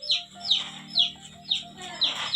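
A chicken clucking in a repeated rhythm, five sharp close calls about half a second apart over a faint steady hum.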